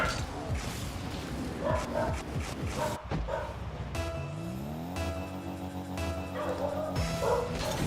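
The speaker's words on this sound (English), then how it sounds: "The dogs are going to be barking anyways" Dogs barking and yipping in a room during a live game stream, repeated short barks and whimpers mixed with steady game sound and tones.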